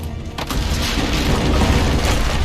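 Cannon fire in the video game Assassin's Creed Brotherhood, heard as a loud, continuous low booming rumble with a sharp onset partway through, dense and sustained throughout.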